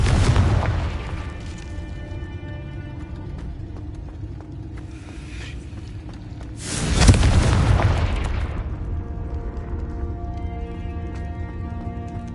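Confringo fire spell exploding in the Hogwarts Legacy video game: a heavy boom at the start, then a second loud blast partway through, each trailing off into a long rumbling decay with game music underneath.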